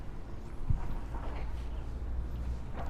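Horse hooves clip-clop on the road toward Venna Lake in Mahabaleshwar, a few faint hoofbeats under steady traffic and outdoor background noise.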